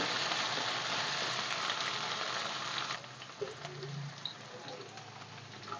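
Chopped capsicum sizzling in a hot pan for gobi manchurian, a dense steady frying hiss that drops off sharply halfway, leaving quieter crackles and soft stirring scrapes.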